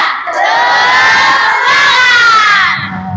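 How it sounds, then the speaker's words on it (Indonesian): A classroom of children shouts a loud, energetic spirit chant together in a single burst lasting a few seconds, their voices ringing out close and bright. "Anak-anak tepuk semangat."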